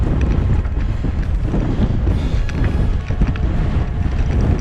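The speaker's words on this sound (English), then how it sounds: "It's so strong, that wind." Strong wind roars over an exposed ridge on the Brecon Gap route while cycling, a loud continuous buffeting rumble blasting across the microphone throughout.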